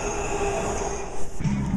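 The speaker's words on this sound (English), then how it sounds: "the metro" A metro subway train in the Washington DC area, a loud steady rumble with a sustained whine and a brief surge of rolling noise, heard close and with nobody speaking.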